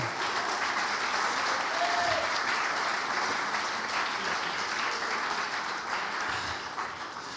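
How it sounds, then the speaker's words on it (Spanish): A church congregation claps loudly in praise to the Lord during a sermon, a steady wash of many hands applauding for several seconds before tapering slightly at the end. "Dale un fuerte aplauso al Señor"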